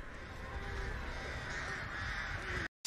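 A crow caws steadily and loudly in Dead by Daylight, the harsh calls running over a constant ambient bed, with no talking, before cutting off abruptly at the end.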